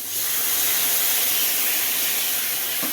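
Mustard paste hitting hot oil in a pan for a Bengali pabda fish curry gives a steady, loud, hissing sizzle that runs unbroken for three seconds and ends with a small clatter.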